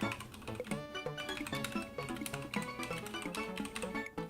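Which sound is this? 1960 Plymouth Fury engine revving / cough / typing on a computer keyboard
typing on a computer keyboard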